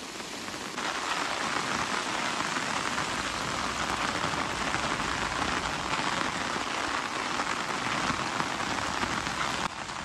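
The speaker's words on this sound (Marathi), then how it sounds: "पूर्ण धुकं आहे आणि कंटिन्यू पाऊस चालू आहे, कंटिन्यू।" Steady, continuous rain pours down at a misty hill temple near Khadakwasla, Pune, a dense, even hiss of drops on surfaces lasting throughout with no voices.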